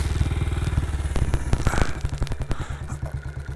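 A 1959 BSA motorcycle engine idles close by on a freezing morning, a steady low thumping beat with a few clattering knocks and thuds over it, no talking.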